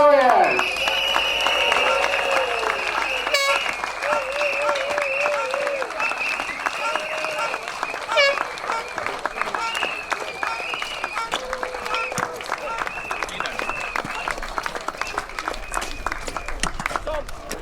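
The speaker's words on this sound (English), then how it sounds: "Clap your hands." Crowd applause and cheering fill the stands at a speedway meeting, steady and loud throughout. An announcer's amplified voice and whistles sound over the top.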